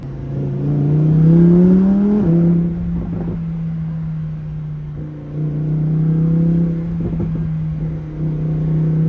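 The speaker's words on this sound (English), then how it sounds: "Just listen to the sound of that engine." A loud, close naturally aspirated V10 in a 2021 Lamborghini Huracan EVO revs up to a high whine, drops, then settles into a steady, throaty hum with smaller swells.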